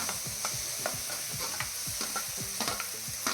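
Crushed shallots sautéing in a pan for fish curry give a busy, close sizzle under rapid, repeated spoon scrapes and knocks against the pan.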